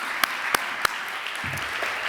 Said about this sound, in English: Nancy, you can hear the speakers clapping.